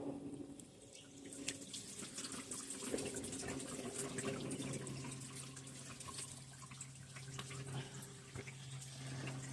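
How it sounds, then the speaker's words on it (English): Engine coolant from a Dodge, Chrysler or Jeep 2.0L/2.4L engine draining into a drain pan during a thermostat change, a steady splashing trickle like a running tap, continuous and close throughout with no talking. "The drain pan is big enough to cover up a good portion of the area that is draining"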